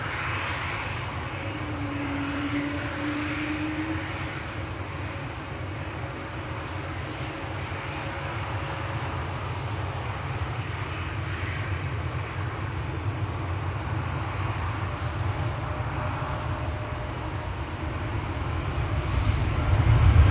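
Jet engine roar from a Transavia airliner at Schiphol Airport, a sustained heavy rumble with a faint tonal whine that swells louder toward the end.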